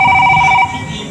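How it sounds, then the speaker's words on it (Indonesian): A telephone ringtone trills steadily for about half a second, loud and close, then cuts off, leaving a background hum. "Aduh, ada telepon lagi."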